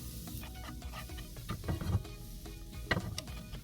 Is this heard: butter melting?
yes